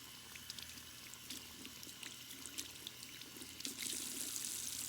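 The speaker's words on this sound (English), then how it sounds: "And then I just rinse this until it runs clean." Paint brushes rinsed under a running kitchen sink tap, a steady close stream of splashing water with soft trickles and a brief louder gush near the end.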